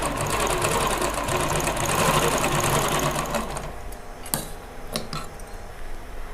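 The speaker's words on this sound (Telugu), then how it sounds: "ఈ క్లాత్ని మళ్ళీ జిగ్జాగ్లోకి ఫోల్డింగ్కి అలా మిషన్కి ఇచ్చేయాలన్నమాట." A zigzag sewing machine stitching the edge of a saree runs in a fast, even, close mechanical patter for about four seconds, then stops, leaving quieter clicks and handling sounds.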